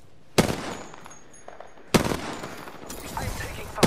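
Gunfire in the video game Apex Legends, three loud bursts of rapid automatic fire, each sharp onset followed by a rattling tail with quieter game sounds between them.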